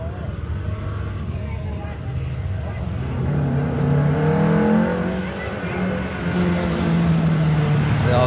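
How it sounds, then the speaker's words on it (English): A Mazda 3 accelerating hard at a sprint race meeting, its engine note rising and strengthening midway as it powers away, heard at moderate distance with track ambience. "Mazda 3. You can get the grip down and get a good run."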